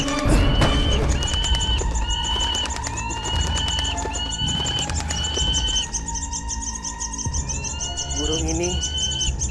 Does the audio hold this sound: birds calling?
yes